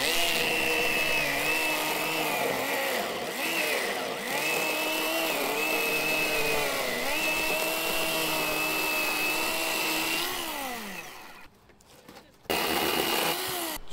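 A small Ryobi battery chainsaw with a dull chain whines steadily as it cuts slowly, its motor pitch sagging and recovering under load before it briefly stops and starts again near the end.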